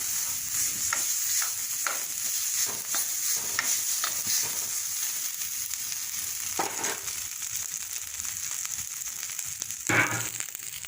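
Potatoes and mustard seeds being stirred in a hot pan make a continuous frying sizzle with repeated scraping strokes and soft knocks from the utensil, close up and with no speech.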